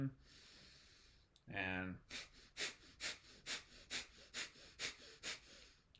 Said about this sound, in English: It's a quick, sharp exhale out, and then allow that inhale to naturally come back in.